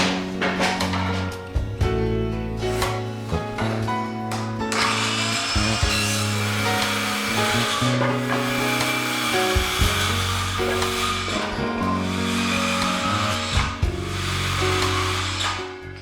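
A MAXIMUM 20V brushless saw cuts through wood in a few loud close passes, its motor whining up and dropping between cuts, with the blade rasping through the board.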